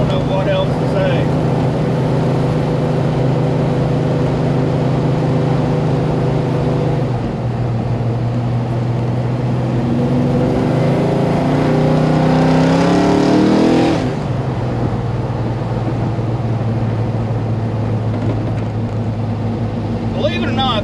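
A powerful car engine fed by Holley Dominator carburetors and fitted with full mufflers rumbles loudly at idle, then revs up and climbs before dropping back to a steady, heavy burble.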